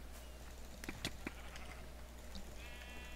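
Sheep bleat in the Minecraft video game, a few short faint bleats heard over a steady low background hum.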